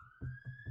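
Police sirens wail outside through open windows, a high steady tone with a faint pulsing under it, heard from indoors at moderate distance and fairly quiet.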